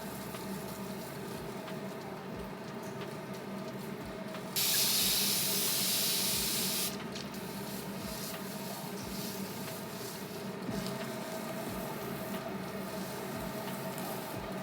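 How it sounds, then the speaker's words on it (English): A hood hair dryer hums steadily and faintly in the background of a hair-care session. A short, bright spray hiss cuts in for about two seconds, and soft periodic thumps sit under the drone. "if you hear the noise in the background, it's my hood dryer"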